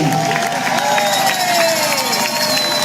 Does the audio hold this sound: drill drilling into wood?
no